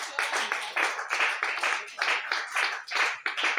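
A congregation at a church service applauds, a dense, steady patter of many hands clapping close by, lively and sustained throughout the short stretch.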